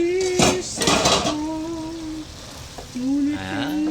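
A metal lid clatters onto a cooking pot of chicken in tamarind broth with tomatoes, two sharp clanks followed by steady simmering hiss and softer rattles, close and fairly loud.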